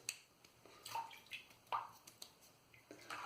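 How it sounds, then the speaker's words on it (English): Water is added to shaving lather in a bowl for a wet shave, giving a few soft wet squishes and drips at irregular intervals, close and faint, with no talking. "Now put a bit more water in."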